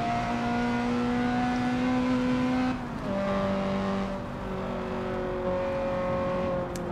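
Honda VTEC engine revving high and holding a strained pitch, dropping briefly as it shifts, then climbing again, heard from the interior; a synthetic, game-like car sound with no talking.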